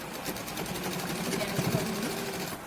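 A sewing machine runs steadily while stitching the sleeve of a nightie, a continuous mechanical whir with a faint rhythmic pulse throughout, moderately quiet and with no talking.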